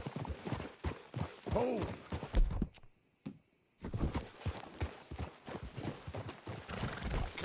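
Horse hooves clip-clop at a steady walking pace in a Red Dead Redemption western game scene, with a brief neigh and a short pause mid-way; a voice speaks briefly.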